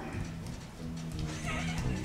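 Horse sounds with rhythmic clip-clop hooves and a neigh-like tone, moderately loud, mixed with a French-speaking voice and background music.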